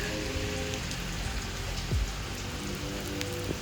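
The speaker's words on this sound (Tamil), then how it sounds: "காலையிலேருந்து மழை பெஞ்சிட்ருக்கு" Steady rain falls outside a home in Korea, a dense even hiss of drops on surfaces with a few louder nearby splashes, no voices.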